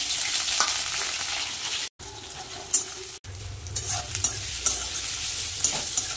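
Onions, garlic, green chillies and black cumin sizzle in hot oil in a kadai. A steady frying hiss runs under repeated stirring scrapes, with two brief cuts in the sound.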